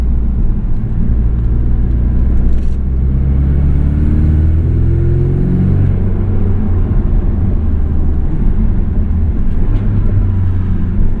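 An MTM-tuned 2017 Porsche 718 Boxster S with PDK accelerates in high gear, a loud, deep engine drone rising steadily in pitch over heavy road and cabin rumble, heard from inside the car with no talking.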